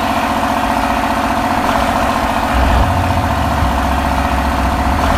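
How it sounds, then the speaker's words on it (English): A Gator utility vehicle engine idles in the farming game Farming Simulator 2017, a steady, loud mechanical rumble that thickens partway through and holds on without talk. "I love the new sound of that gator"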